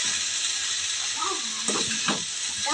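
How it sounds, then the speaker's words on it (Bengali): Chowmein being stirred together with a fried egg in a pan, a steady sizzle with soft scraping and stirring noises, with a voice speaking briefly over it. "এবার এটা ভালো করে মিশিয়ে নেব"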